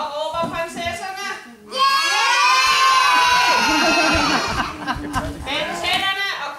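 Children shout excitedly in a burst of overlapping cries, playing princesses calling out during a make-believe dragon story, with a voice talking before and after the loud shouting.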